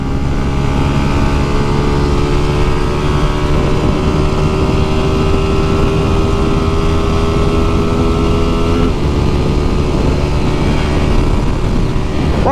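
A Honda Titan 150 motorcycle cruises on a highway after a recent adjustment, its engine giving a steady, loud drone with wind rush throughout, a slight shift in pitch near the end.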